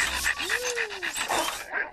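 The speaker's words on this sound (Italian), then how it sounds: "È Tuono, il mio cane." A dog in the film Dibu 3 panting in quick rhythmic breaths, close by, with a brief higher whine sliding through the middle.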